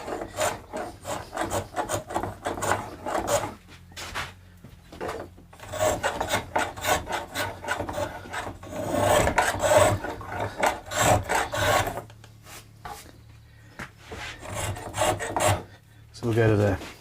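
Japanese saw rasp filing cross-grained guitar wood, in rhythmic bursts of scraping strokes with short pauses between, close and fairly loud.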